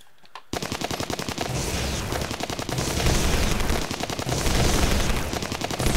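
Dense, sustained bursts of automatic gunfire in an Anomaly Warzone firefight, rapid rhythmic shots layered together and loud throughout after a brief quiet opening.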